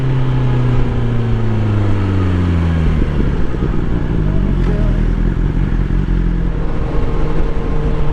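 A 2021 BMW S1000XR motorcycle engine pulls hard and rises in pitch, with quick-shifter gear changes that cut and reset the tone. It is loud and close, over steady wind and road roar.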